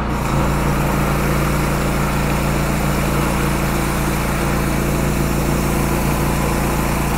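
Pressure cleaner at 3000 PSI and 21 litres a minute driving a 30-inch surface cleaner, a loud, constant engine drone with broad spray hiss, steady throughout without talk.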